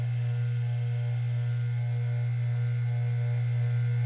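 A Foley 310 saw sharpener's electric motor running smoothly, giving a steady, low, even hum with a faint buzzing overtone, constant and fairly quiet, with no talking.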